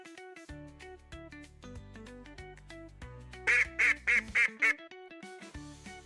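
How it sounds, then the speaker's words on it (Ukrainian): Five sharp duck quacks come in quick succession over a bouncy musical backing of plucked notes. "Качка. Ках, ках, ках."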